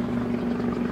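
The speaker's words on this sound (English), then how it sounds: "This is Harold the Helicopter." A cartoon helicopter flies by, a steady droning rotor hum that stays even and fairly close for about a second with no talking.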